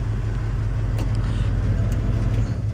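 A fuel-injected 1956 Chevrolet 3100 truck engine running steadily up close, a deep, even rumble with a smooth idle that holds level for nearly three seconds, no talking over it.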